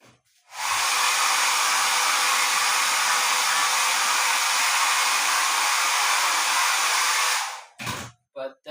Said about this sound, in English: all 3 of these needs one more blow dry just to speed it up